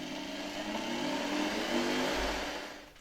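The motor of a 1972 Hoover 1346A vacuum cleaner whirs up from rest, its hum rising steadily in pitch and volume before easing slightly; fairly quiet and close.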